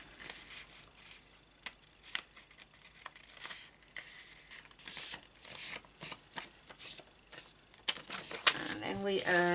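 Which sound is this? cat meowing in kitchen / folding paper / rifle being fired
folding paper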